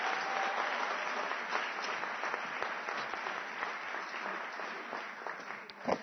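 Steady audience applause fills a university's 150th anniversary address at UNISA, a dense, continuous wash of clapping hands that holds at an even level throughout.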